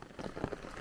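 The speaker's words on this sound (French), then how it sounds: "Il pleut." Steady rain patters on a pilgrim walker's rain cover along the Camino de Santiago, a soft continuous drizzle of close droplets with no voices.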